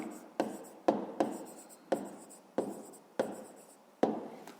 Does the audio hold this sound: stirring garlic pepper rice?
no